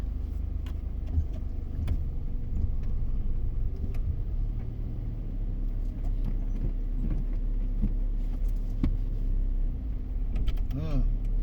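A car driven slowly during a driving lesson gives a steady close engine rumble with small bumps and clicks, and people talk over it inside the cabin.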